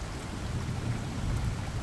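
Steady rain falls with a low rumbling of thunder, a dense, even wash of noise with no talk.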